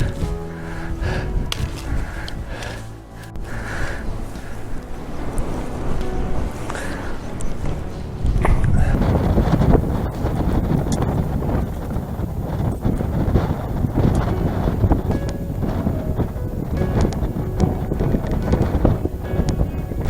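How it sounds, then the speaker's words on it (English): Strong gale roaring across Great Stony Hill, an exposed County Durham hilltop, with loud, continuous buffeting against the microphone that swells in gusts and grows heavier partway through. "it's blowing the gale up here"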